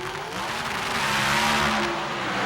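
A Pontiac and a Ford Thunderbird drag racing down the strip in a 1983 NHRA Springnationals semifinal, engines roaring loud and close as they accelerate together, the pitch of the drone rising steadily with no talk over it.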